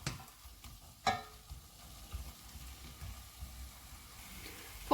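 Vegetables for tahboulte, a Kabyle winter dish, simmer and sizzle softly in a pot, with a faint stir and a few clinks of a utensil over a quiet, close bubbling.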